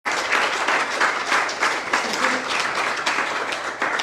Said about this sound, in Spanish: Démosle un aplauso fuerte a Dios.